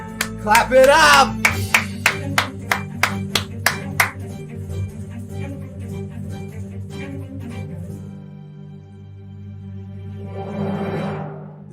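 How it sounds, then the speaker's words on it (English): Two people clap in a quick series of about a dozen sharp, loud claps over background game music, the claps thinning out and fading after a few seconds while the music continues. "Clap it up!"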